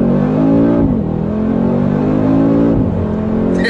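A 2019 Mercedes-AMG G63 in Sport Plus mode roars loud and close under hard acceleration, its engine note climbing and dipping briefly at two gear changes. There is no talking.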